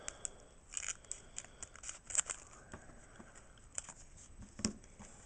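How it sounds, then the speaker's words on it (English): Scissors snip through the foil wrapper of an Ex Team Rocket Returns Pokemon booster pack, a few close crisp cuts and crinkles spread over several seconds in a quiet room. "Alright, I need some scissors."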